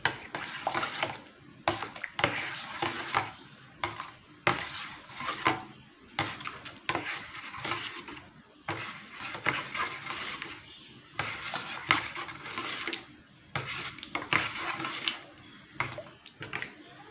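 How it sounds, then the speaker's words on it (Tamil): Tender coconut flesh and coconut water stirred and mixed together in a vessel, giving repeated scraping, clinking and sloshing strokes in an uneven rhythm, close by with no talk. "இளநீர் சேர்த்து இது நல்லா மிக்ஸ் பண்ணிக்கலாம்"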